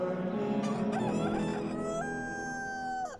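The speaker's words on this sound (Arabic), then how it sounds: "هون ندم بطرس بعد صياح الديك" A rooster crows and clucks in a long, harmonic call at moderate distance, alone without talk, at a site in Jerusalem.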